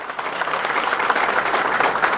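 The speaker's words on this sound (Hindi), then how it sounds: "चाहता हूं एक बार जोरदार ताली बजाएं उनके लिए" An audience at an Indian election rally applauds a political speech. A dense, steady burst of clapping from many hands continues throughout, close and loud, with no voices over it.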